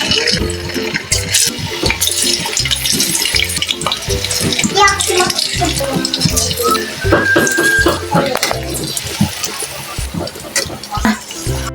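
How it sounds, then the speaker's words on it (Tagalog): Tofu frying in hot oil for a Filipino tokwa't baboy dish, a steady dense sizzle with clattering stirring, while voices talk over it throughout. "Ayan guys, at magprito na tayo ng tukwa."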